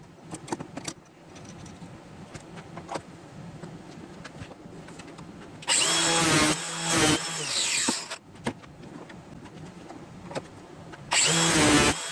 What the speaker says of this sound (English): you kind of go with the angle grinder like that, and it sharpens the blade for you